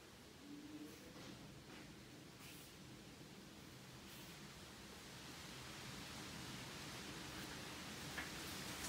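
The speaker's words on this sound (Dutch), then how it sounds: "Je hoort waarschijnlijk de wind op de achtergrond." Steady, soft outdoor wind noise rushes in the background during shawl blocking with lace wires, a broad constant hiss that swells slightly toward the end.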